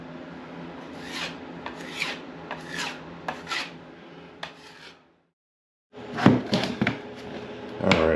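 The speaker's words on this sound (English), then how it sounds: "will definitely require sanding" 220-grit sandpaper rasps back and forth over filled screw holes in steady rhythmic strokes, stops for about a second, then resumes more vigorously. No one speaks.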